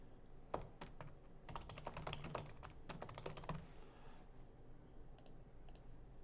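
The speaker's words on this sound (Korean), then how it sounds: "얘는 또 한번 타이핑을 해보도록 하겠습니다" Someone types on a computer keyboard in a quiet room, a quick run of crisp clicking keystrokes that slows and then stops, with a few faint taps afterward.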